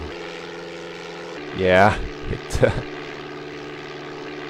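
Propeller engine of a Sopwith Camel biplane drones steadily in a DOSBox flight game, a constant buzzing hum running throughout while someone speaks briefly over it.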